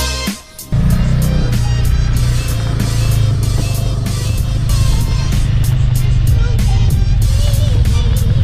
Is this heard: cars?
yes